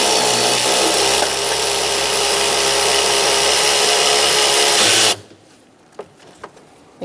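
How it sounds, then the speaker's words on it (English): An 8mm socket on a powered driver removes the lower radiator hose clamp on a 2004-2009 Mazda 3, a loud, close, continuous whir for about five seconds that cuts off abruptly, followed by a few faint clicks. "Using an 8mm socket, we're going to take off this hose clamp for the lower hose"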